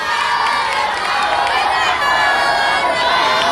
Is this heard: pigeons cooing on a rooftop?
no